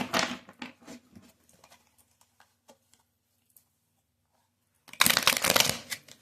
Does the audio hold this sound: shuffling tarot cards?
yes